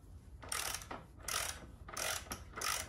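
A ratchet tightens a bolt during motorcycle reassembly, four short bursts of rapid clicking separated by brief pauses, fairly quiet.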